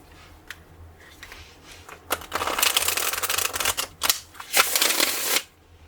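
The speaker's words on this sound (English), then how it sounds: "Give it a good shuffle." A deck of tarot cards is shuffled close up in two bursts of riffling and crisp paper rustle, alone and without talk, in a quiet ASMR setting.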